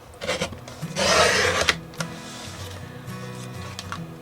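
Cardstock being cut for an artist trading card, a broad papery swish of a cut followed by scraping and rubbing handling noises, close and moderately loud with no talking.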